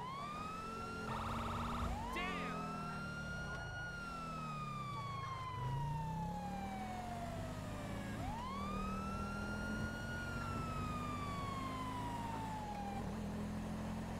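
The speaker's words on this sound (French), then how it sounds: "La sirène." A police car siren in GTA 5 wails continuously in long rising and falling sweeps over a steady engine rumble, loud and close.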